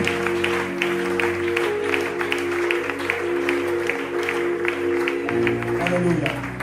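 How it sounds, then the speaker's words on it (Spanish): Church congregation applauding, steady rhythmic clapping filling the space over a sustained low musical drone, fairly loud, with the pitch of the backing shifting near the end. "un fuerte aplauso al Señor."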